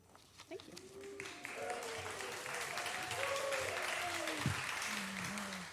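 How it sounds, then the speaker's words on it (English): A church congregation at a Sunday service breaks into sustained applause, swelling after a moment and holding at a moderate level while voices speak over the clapping. "a round of applause is well-deserved for everyone who's helped already"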